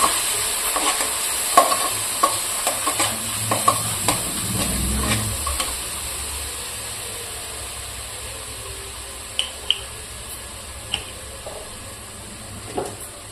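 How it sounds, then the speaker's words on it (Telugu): Cauliflower fried rice stir-frying in a pan gives a steady sizzle with repeated spatula scrapes and knocks against the pan, busier at first and then settling into a quieter sizzle. "ఇప్పుడు ఇదంతా మంచిగా ఫ్రై చేసుకోవాలి"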